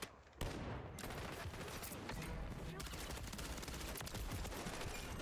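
Automatic RIVAL-9 rifle in a video game, fitted with the JAK Headhunter aftermarket part, firing a sustained loud burst of rapid shots that starts abruptly and runs to the end with slight background talk.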